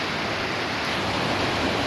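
Wolf Creek Cave Falls pours down beside a cave in a steady, loud, unbroken roar of rushing water that fills the whole moment with no voices.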